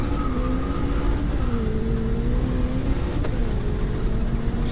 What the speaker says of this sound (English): If you watch, I slam second hard.